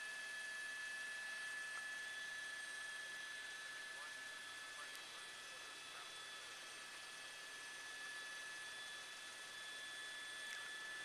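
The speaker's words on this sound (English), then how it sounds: "2 LA County Sheriff helicopters now right overhead." Two LA County Sheriff police helicopters hovering overhead at night during a pursuit, a steady droning rotor and engine hum with high whine tones, constant and moderately loud.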